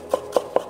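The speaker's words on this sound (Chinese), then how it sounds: "给它切碎一点。" A knife chops a small piece of smashed ginger finely on a board, giving three crisp, evenly spaced taps up close with no talking.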